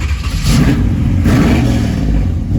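A 1967 Chevrolet Camaro engine cranks and catches, then settles into a loud, steady idle with a rise in revs, heard close up and alone.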